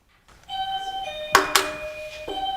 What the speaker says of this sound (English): I'm almost ready for the bell that we don't need, but I'm going to get it anyway.